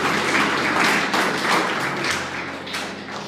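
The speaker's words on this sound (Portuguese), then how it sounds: "Pode aplaudir o Senhor Jesus." Church congregation clapping in praise during a sermon, a dense, sustained wash of many hands that holds steady then eases slightly toward the end.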